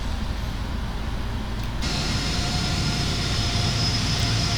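A simulated aircraft on approach to Hong Kong's Kai Tak airport gives off a steady, moderately loud engine drone with a continuous broadband rush and a faint whine that sharpens partway through.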